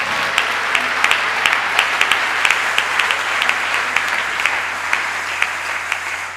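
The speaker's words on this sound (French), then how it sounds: "Et l'acclamer, acclamer le Seigneur." A church congregation claps rhythmically in unison to acclaim the Lord, loud steady beats roughly every third of a second over a continuous bed of crowd applause for several seconds.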